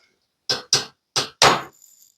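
A hammer strikes a center punch against a metal workpiece four times in quick succession, sharp, close and loud metallic taps with a brief ringing tail.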